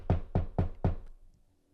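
Four sharp knocks land in an even rhythm, close and loud, then fade into a quiet room tone with no voices.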